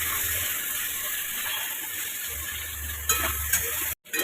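Raw plantain and potato pieces fry in a pan, making a constant hiss of sizzling oil with a few scrapes and clicks near the end and no voices.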